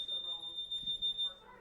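A smoke alarm gives a steady high-pitched electronic beep that stops near the end, with faint talk under it.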